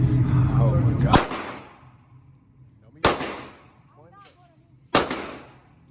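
Three sharp gunshots crack at an outdoor gun range, each a loud close blast with a decaying echo, spaced about two seconds apart, with some background noise before the first.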